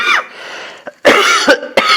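A person coughs several times in short, harsh bursts, close and loud, with brief pauses between them.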